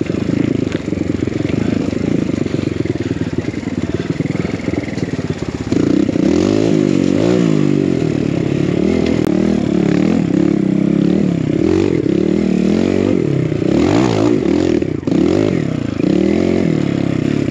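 An enduro motorcycle ridden off-road on Vancouver Island, its engine revving and surging up and down continuously and close by, with rattles and clatter from the rough trail.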